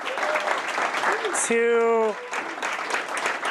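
An audience at a startup accelerator demo day breaks into applause, a steady wash of clapping under a cheer and a brief whoop, with people talking over it.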